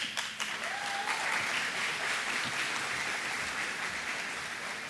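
Steady, dense applause from an audience at an award ceremony for a graduating class, sustained at an even level throughout with a brief voice near the start.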